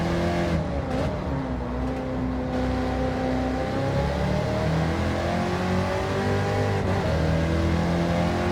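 Race car engine in Gran Turismo 7 running on a dirt track, a steady loud drone whose pitch sweeps up and down as it revs through gears, continuous and alone for the full stretch with no talk.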